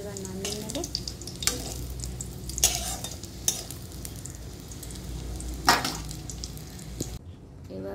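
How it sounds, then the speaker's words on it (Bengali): Cumin and bay leaf sizzle in oil left over from frying pointed gourd, a constant close hiss punctuated by sharp clinks and scrapes of a spatula against the pan. "এবার পটল ভাজার ওই তেলটার মধ্যে আবার একটু তেল দিয়ে দিলাম জিরে।"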